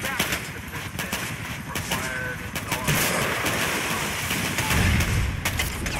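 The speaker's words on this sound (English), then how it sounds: "We'll shoot at Roman's taxi." Gunfire hits a taxi in GTA IV, with repeated sharp shots over loud game ambience and a voice talking over the action.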